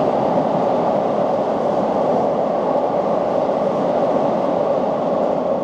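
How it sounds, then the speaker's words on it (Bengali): A train passes through a Japanese station, a steady loud roar of wheels and carriages on rails that holds for several seconds without any voices. "এই একটা ট্রেন গেল তো যেতে না যেতে সিগন্যাল গ্রিন হয়ে গেল"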